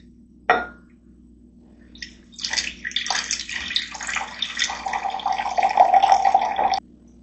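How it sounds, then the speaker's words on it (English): Water poured from a tap or jug into a measuring cup on a scale while baking sfogliatelle, after a sharp clink: a steady splashing pour that rises in pitch as the cup fills, then stops abruptly. "I'm going to weigh out 185 grams of water"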